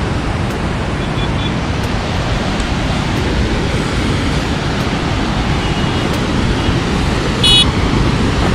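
Road traffic rushes past on a narrow stretch beside a river dam, a steady broadband roar of passing vehicles close by with wind buffeting throughout, a brief faint horn near the end.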